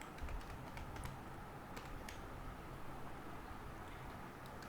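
Quiet clicks of typing on a computer keyboard, irregular scattered keystrokes over a soft background hiss, faint and close.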